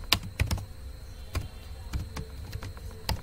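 Someone types HTML code on a computer keyboard, producing quick, irregular clusters of light key clicks close by, with short pauses between bursts.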